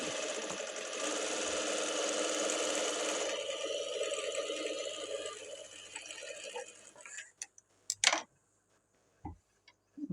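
A sewing machine stitches a blouse, its motor whirring with a fast, steady ticking rhythm for about seven seconds before it stops, followed by a few sharp clicks and brief handling noises in near-silence.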